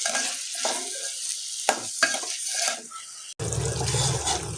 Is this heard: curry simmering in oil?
yes